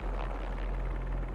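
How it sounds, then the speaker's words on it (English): Steady helicopter rotor drone from Spider-Man 2, a low pulsing rumble that fills the whole moment at a constant, fairly loud level with no voices. "helicopter's blades."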